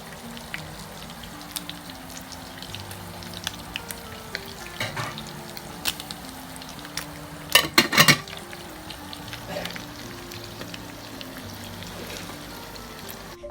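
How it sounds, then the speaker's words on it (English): Oil crackles and sizzles steadily as sardines shallow-fry in a pan, with a few brief clattering bursts of utensils partway through. "So here I am lightly shallow frying the sardine fish in the oil."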